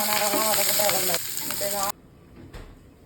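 Food sizzles loudly in a pan while it is stirred with scraping utensil sounds, then the frying suddenly cuts to a quiet background with a faint clink near the end.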